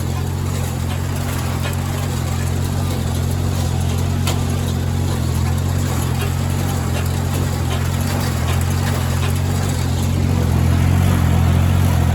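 A gas tractor engine drones throughout while raking and baling hay, low and constant, with a slight rise in loudness near the end.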